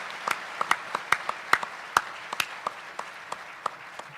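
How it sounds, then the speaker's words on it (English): Scattered, sparse clapping from a debate audience, individual claps spaced out and distinct rather than a full dense round, moderately close and fairly quiet. "Let's give them a big round of applause right now for everything they did to put this show together."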